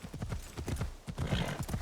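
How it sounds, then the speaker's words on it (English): In the video game Assassin's Creed Shadows, a called horse gallops closer with rapid, rhythmic hoofbeats, fairly soft and close, with a brief whinny mixed in. "Let's call our horse."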